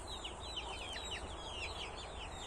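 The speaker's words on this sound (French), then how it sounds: "La méchante mère poule. Elle est venue picorer dans la cage de mes poussins." A mother hen clucks in a series of quick, bright calls at close range. She is pecking at the cage holding the chicks, over a steady low background of farmyard noise.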